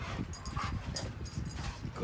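A puppy whimpers and yips in short, uneven bursts close by, mixed with movement noise and occasional voices in the background.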